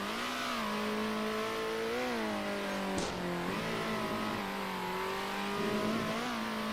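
Engines of race cars whine and rev in the video game Circuit Superstars, a steady loud drone rising and falling in pitch as cars draw near.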